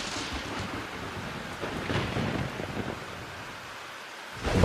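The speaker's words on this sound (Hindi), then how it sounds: "बारिश लगातार हो रही थी" Steady heavy rain hisses throughout, with low rumbling swells that suggest thunder rolling in the distance.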